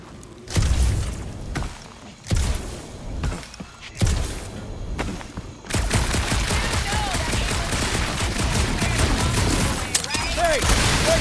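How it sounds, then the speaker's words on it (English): Bursts of gunfire from the video game Marvel's Guardians of the Galaxy, loud and close: separate heavy volleys at first, then a long, dense stretch of rapid shooting with thuds mixed in. "Hey, that shooting's not aimless."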